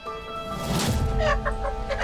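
A chicken clucking nearby, a series of loud, repeated squawking clucks over a steady background hum.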